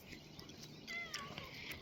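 A cat gives a short, faint meow, a thin rising-and-falling cry in a quiet indoor space with soft background noise.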